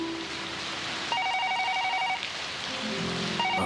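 An electronic telephone rings in repeated short bursts of tone, moderately loud over a steady hiss of background noise.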